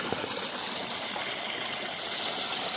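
Steady, close rush of water pouring through a Gold Hog sluice during a culvert and grizzly clean-up while prospecting for gold, a dense continuous wash with no voices.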